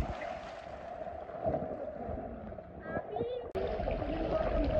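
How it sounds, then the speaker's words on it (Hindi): Water sloshes and laps steadily in a swimming pool, a continuous near wash of splashing waves with children's voices and chatter over it. "लहरें आ गई यहाँ पे सारी।"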